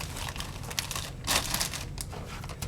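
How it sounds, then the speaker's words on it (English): A roll of masking tape is handled and pulled during a Honda NS250R motorcycle restoration, giving close, crinkly rustling with a few sharper tearing bursts in the middle, steady and without talk. "I want to get some fresh tape out."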